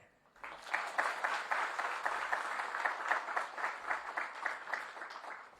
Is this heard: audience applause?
yes